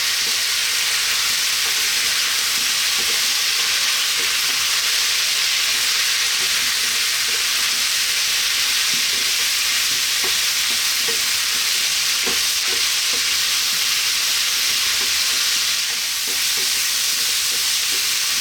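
Vegan biryani ingredients fry in a pan, giving a loud, steady hiss of sizzling oil with scattered scraping and tapping from stirring throughout, close up and without talk.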